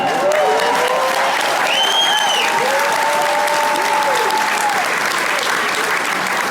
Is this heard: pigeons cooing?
no